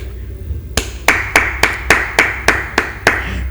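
A church congregation claps in praise of the Lord, about nine sharp, loud, evenly spaced claps in a steady rhythm with no talk.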